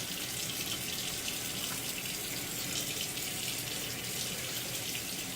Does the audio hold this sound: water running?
yes